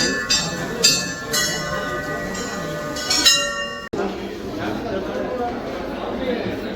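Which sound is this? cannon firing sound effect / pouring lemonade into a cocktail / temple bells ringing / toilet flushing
temple bells ringing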